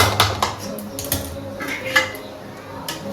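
A metal lid set over a pot of dal, giving a few close, bright metallic clanks and rattles spread across a short stretch over a low kitchen background.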